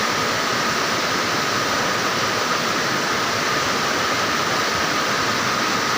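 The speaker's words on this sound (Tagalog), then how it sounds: "lakas ng tubig kagabi pa to eh" Strong floodwater rushes through a swollen creek after days of nonstop rain, a loud, steady, broadband roar with no breaks, close and unbroken throughout.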